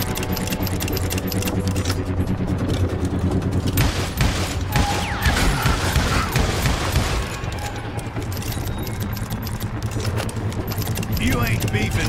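Gunfire in the Western shooter game Call of Juarez Gunslinger: rapid bursts of shots crackle over a constant backdrop of game sound, with a voice talking over part of it.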